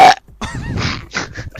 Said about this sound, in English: Why'd you keep burping?